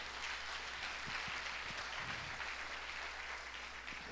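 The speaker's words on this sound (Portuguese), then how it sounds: "Outra salva de palmas para o Senhor." A church congregation gives a sustained round of applause, an even wash of clapping heard at a modest distance, with no talk over it.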